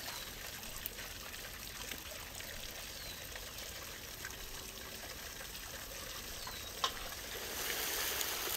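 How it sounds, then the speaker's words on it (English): Water poured steadily into stewed beetroots for borsch with bull's ribs, a continuous soft gushing trickle lasting several seconds with no talk over it. "we'll add a bit of water to help everything blend together into a delicious broth"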